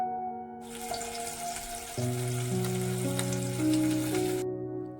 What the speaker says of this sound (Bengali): তাই ইলিশ মাছগুলোকে ফ্রাই করছি।